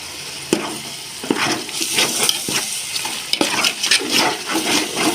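Yogurt stirred into an onion-tomato masala sizzling in a pan for prawn dum biryani: steady frying crackle with wet stirring scrapes and a few sharp clinks of a spoon against the pan, no voices.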